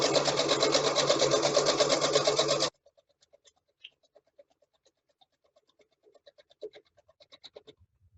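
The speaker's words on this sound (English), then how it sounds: "So right now I'm just sewing around." A sewing machine stitches around a satin bonnet in a loud, fast, close mechanical whir for under three seconds, then stops, leaving near silence broken by faint handling taps.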